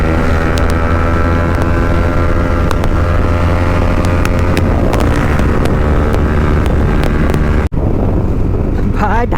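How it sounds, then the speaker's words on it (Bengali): Bajaj Pulsar motorcycle engine while riding, a loud continuous engine drone buffeted by heavy wind noise on the microphone, with a brief cutout near the end followed by a rising rev. "পালসারে ভাই ভালোই সাউন্ড দিচ্ছে ভাই"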